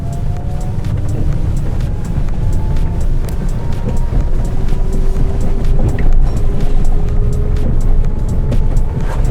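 A small Elwinn Nex electric car drives at about 50 km/h on a weak battery, giving a steady loud rush of wind and road rumble with a faint thin motor whine, and no talking.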